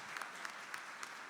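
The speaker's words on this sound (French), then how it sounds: "On l'applaudit très fort." Quiet, steady applause from an audience honouring an award winner at a year-end personalities ceremony, a soft continuous patter of clapping with a few sharper claps.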